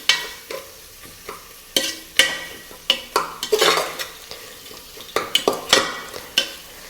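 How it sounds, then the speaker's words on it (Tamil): Biryani ingredients stirred in a pot over a slow flame: repeated scraping strokes of a spoon against the metal, irregular and close, over a faint sizzle with no talk. "இப்போ எல்லாத்தையும் நல்லா மிக்ஸ் பண்ணி விடுறோம்"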